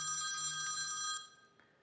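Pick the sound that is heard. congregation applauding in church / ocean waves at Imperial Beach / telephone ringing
telephone ringing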